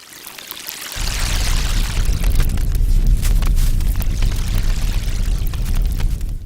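Synthesized water waves and a waterfall in a VR game, a steady, loud broadband rush of falling and churning water that starts abruptly after a brief quiet moment and holds at an even level.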